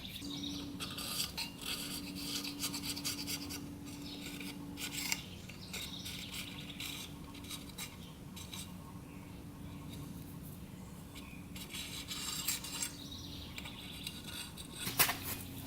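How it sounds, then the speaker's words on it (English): An old gasket being scraped off metal on a junkyard Yamaha Blaster quad engine: repeated soft rasping and rubbing strokes continue irregularly throughout, fairly quiet and close. "Now we gotta get the old gasket off right here."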